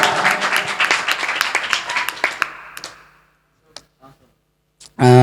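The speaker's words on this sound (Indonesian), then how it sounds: "Tepuk tangan, tepuk tangan." Audience applause at an Indonesian talk show, a close burst of clapping about three seconds long that thins to a few scattered claps before near silence, then a sudden loud sound at the end.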